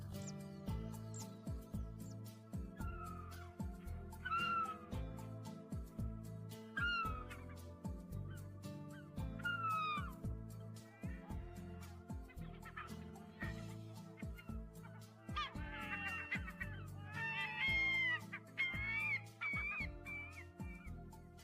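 Yellow-legged gulls call on the Rock of Gibraltar, sending out repeated sharp, high squawks and yelps at irregular intervals over a steady rhythmic musical bed, moderately near, with no speech.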